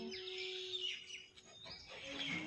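Mynas chirp and call over a steady ambient background while feeding on scattered grain outdoors, with several overlapping bright tweets coming and going at moderate distance.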